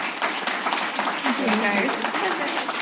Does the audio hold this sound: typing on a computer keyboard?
no